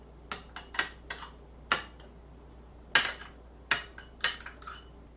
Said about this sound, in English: now we'll stir these up. This is a non-reactive stainless steel